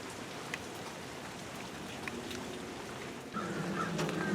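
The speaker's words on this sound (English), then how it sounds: "it's still raining" Steady rain falls outdoors as a continuous even hiss with scattered drop taps, a slight rise in intensity near the end, no talk.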